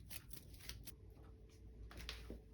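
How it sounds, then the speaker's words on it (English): Deck-building game cards are shuffled together in a series of quiet, papery riffling bursts close by. "we're going to take these and mission 2 and shuffle them together"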